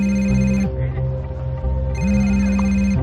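A mobile phone rings over and over at a local park in Beaumont, Texas, its steady electronic ringtone playing loud and close in two bursts with a brief gap between, and no talking.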